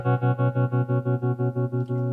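An electric guitar chord run through the aggressive tremolo of a Boss GX-10 throbs in fast, even pulses, about a dozen beats before it fades, played alone.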